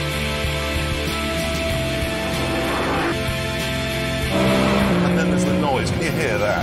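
A BMW M3 CSL engine, E46 generation, running and revving, with a steady mechanical drone that rises in pitch and grows louder toward the end, mixed with music or other sound.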